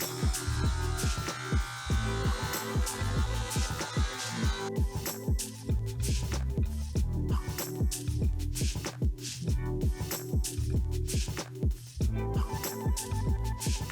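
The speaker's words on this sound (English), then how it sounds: "Vaillant cut the pieces we'll need with the angle grinder" An angle grinder cuts through metal pieces for a container house window frame, a loud steady whine broken by rapid rhythmic pulses and clatter, close and continuous throughout.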